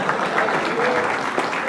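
An audience at a special film screening claps in a short, dense burst of applause, steady and fairly close, with a voice talking over it.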